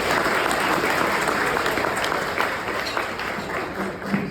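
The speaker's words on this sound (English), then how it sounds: "I think we can applaud that." Audience at a healthcare awards ceremony breaks into sustained applause, a dense roar of many clapping hands filling the room, loud and steady before tapering slightly with faint voices underneath.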